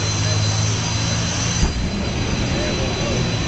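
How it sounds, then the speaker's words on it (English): Jet turbine engines fitted with afterburners on a drag-racing minivan give a loud, continuous roar with a brief burst midway, with a voice talking faintly underneath. "that smoke's coming out of the jet turbines, not the van, the minivan itself"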